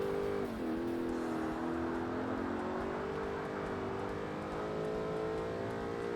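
Race car engine in Forza Motorsport holding a steady loud drone that climbs gradually in pitch, heard alone without talk.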